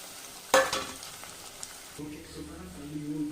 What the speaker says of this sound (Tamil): இப்போ நம்ம இந்த உருளைக்கிழங்க இதில் போட்டு பரட்டிடலாம்